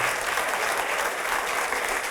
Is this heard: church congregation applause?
yes